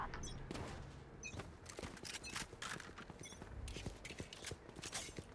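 Rapid pistol gunfire in a video game, dense repeated sharp shots crackling over a continuous background bed of game sound, fairly quiet overall.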